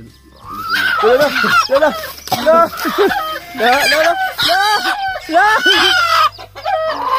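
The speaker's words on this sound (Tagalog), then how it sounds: "Handa tayo kasi lumalaban yung inahin." A hen clucks and squawks agitatedly as she fights back, with bursts of loud, close calls in an irregular rhythm and a rooster crowing among them, while someone talks intermittently under the noise.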